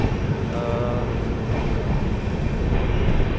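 The Suryanagari Express runs through Bhagat ki Kothi station in Jodhpur without stopping, heard from inside a general coach as a continuous loud rumble and rattle of wheels on track.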